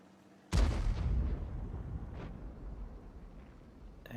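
Tank cannon fire in World of Tanks, a single loud, sudden blast aimed at an enemy's tracks, followed by a long rumbling decay and a fainter secondary boom.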